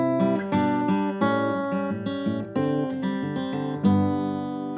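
Acoustic guitar plays the first fill of a song, fingerpicked notes and ringing open strings in a short flowing phrase with a few sharper plucked accents, close and moderately quiet.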